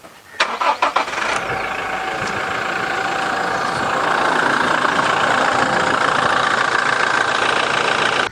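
A Toyota Fortuner Revo's 2.8-litre 1GD diesel, rated at 174 horsepower, cranks briefly for about a second, then catches and settles into a steady, close, rumbling idle that continues without any voices.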